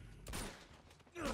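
Sniper rifle shots from Uncharted 2, two loud broadband blasts about a second apart, the second trailing into a brief ringing tail, with game ambience around them.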